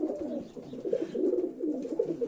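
Pigeons coo continuously inside a dovecote, several birds overlapping in low, rolling, throaty calls close by, with no talk over them.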